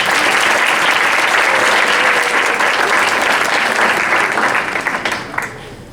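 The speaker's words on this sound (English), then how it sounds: "Let's give a round of applause for all of our judges." A large audience at the Miss Black & Gold 2015 pageant for Zeta Alpha claps loudly and steadily for the judges, a dense sustained applause that fades out toward the end.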